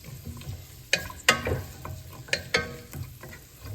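Food sautés in a pan for a chicken noodle soup with a soft, steady sizzle, punctuated by several sharp clanks of a utensil stirring against the pan.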